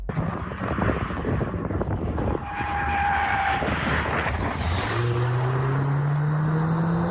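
An Audi RS3 or Mercedes-AMG A45 sports car engine growls loudly from inside the cabin, with wind noise and a rising pitch as it accelerates through the gears, and no talk over it.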